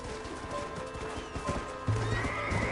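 A horse whinnies loudly amid galloping hoofbeats and clattering game sounds in Red Dead Redemption, the neigh rising clearly near the end.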